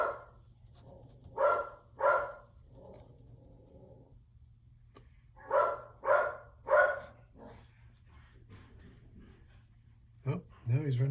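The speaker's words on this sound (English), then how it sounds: "you can hear my dogs. I believe the mail has arrived" Several dogs bark at mail arrival in two loud bursts, a pair of barks then a quick string of three or four, with growls and whimpers between and a steady low hum underneath; a brief higher yelp comes at the end.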